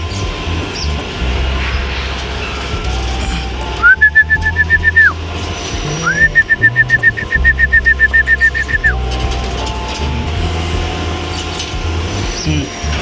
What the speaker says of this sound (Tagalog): Maamo itong babae nating kalapate, oh.